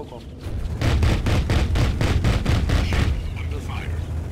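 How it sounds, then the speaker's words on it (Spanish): Rapid bursts of video game gunfire mixed with heavier cannon shots, a fast regular rhythm of about a dozen loud cracks that thin out toward the end, with people talking over the action. "Disparos."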